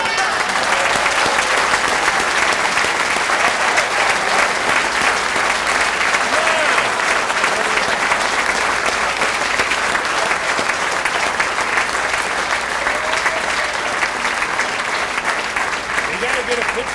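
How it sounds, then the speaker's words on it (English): Sustained loud applause from an audience at a police award ceremony, dense steady clapping filling the whole stretch without a break. "Let's give a loud round of applause to Sergeant Guy Stanton."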